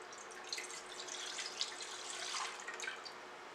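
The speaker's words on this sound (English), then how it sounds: "We are adding 3 cups of whole milk" Whole milk poured into a flan mixture makes a faint, continuous liquid splashing and trickling hiss, steady and soft throughout with no talking.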